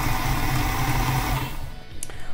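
An electric mixer creams butter with sugar for a gluten-free French silk pie filling, running with a steady loud whirring hum that cuts off partway through, no one talking.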